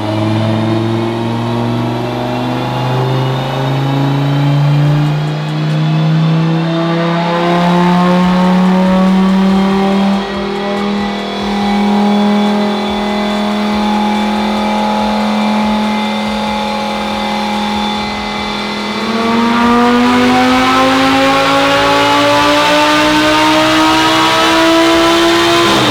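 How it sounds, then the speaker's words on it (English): A Lamborghini with a $3,000 ECU tune and loud exhaust revs hard, its engine pitch climbing in long sweeping pulls, dipping briefly, then surging again, loud and close with no talking. "Your car is really loud. It's aftermarket exhaust."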